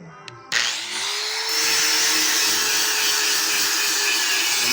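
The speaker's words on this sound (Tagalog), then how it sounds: "Sandiron na to para makuha ng winildingan ba." A power sander grinds weld residue off metal: a loud, steady, high-pitched whir starts abruptly after a brief click and runs without a break to the end.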